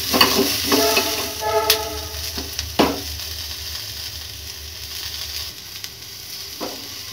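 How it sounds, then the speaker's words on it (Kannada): Ingredients fry in a pan until golden brown, a steady close sizzle with occasional scraping stirs and a few sharp clinks, no talk. "ಚೆನ್ನಾಗಿ ಸ್ವಲ್ಪ ಗೋಲ್ಡನ್ ಬ್ರೌನ್ ಆಗೋ ತನಕ ಫ್ರೈ ಮಾಡ್ಕೊಳ್ಳೋಣ."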